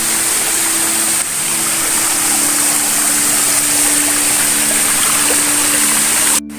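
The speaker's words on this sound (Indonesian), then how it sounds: "Jadi kita bertemu dengan sungai lagi." A forest river of mineral spring water gathered from several springs flows steadily, a loud, dense, unbroken wash of water with a faint constant hum beneath, no voices.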